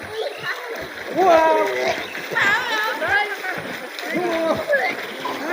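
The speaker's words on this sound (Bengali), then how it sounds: "সামনে সামনে এখন সাঁতার দিব এখন দেখো এই সাঁতার" Splashing water from people swimming in the Bangshi river churns in irregular bursts close by, mixed with excited voices, including children, talking and calling throughout.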